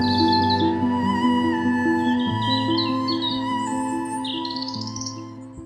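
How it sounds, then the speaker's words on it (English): A nightingale singing in a narrated fairy tale about an emperor: high chirping trills and warbling phrases float over a sustained musical backing, steady and fairly loud throughout. "the little nightingale started singing"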